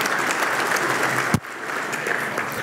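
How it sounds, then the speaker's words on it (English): A church congregation claps steadily during a Sunday service, the applause dense and sustained before a sudden brief drop, then continuing more thinly. "that's worthy of applause"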